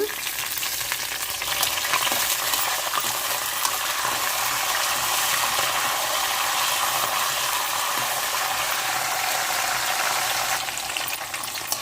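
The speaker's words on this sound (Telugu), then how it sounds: "ఆయిల్ వేడి అవ్వింది ఇప్పుడు ఈ పోపులన్నీ వేసేసుకుందాము" Tempering spices and curry leaves frying in hot oil for a tamarind rice dish, a loud, dense, continuous sizzle close up with occasional stirring, no voices.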